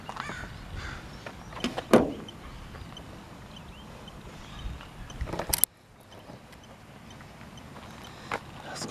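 A crow caws close by in a cemetery at Crystal Lake, giving a few sharp calls over quiet outdoor background with scattered knocks and rustles.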